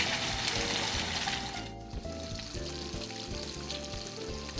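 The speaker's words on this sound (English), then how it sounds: "the pan is hot, and you can see it sizzling" Salmon fillet sizzles in a hot pan, a dense crackling fry noise heard close and steady throughout, dipping briefly midway before continuing, with a low rhythmic hum underneath.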